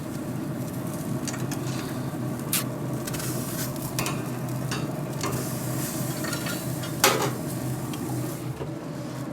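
Veal T-bones cook on a Louisiana Grills LG800 Founders Legacy pellet grill with the searing plate closed, giving a steady, even sizzle and hiss close by, with a few faint clicks and one sharper knock, and no voices.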